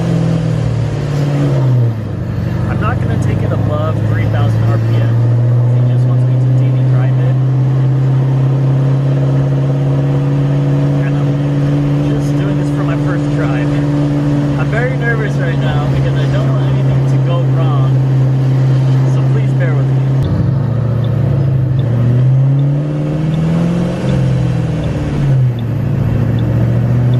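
Boosted Ford Mustang GT engine holding a loud, steady, close drone, with a rev rise and fall near the start and more revving toward the end.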